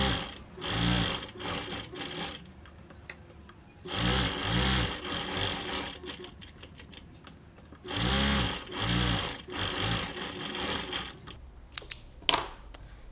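A domestic sewing machine stitches a tote bag seam at a quarter-inch allowance, running in several steady motorized bursts separated by short pauses and small mechanical clicks.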